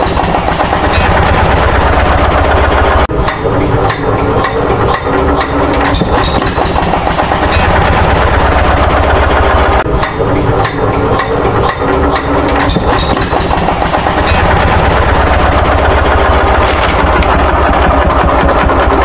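A small homemade rice-field tractor built from PVC pipe runs its engine with a loud, steady rattling drone and rapid popping bursts, throttle surging and easing throughout, close by with no voices.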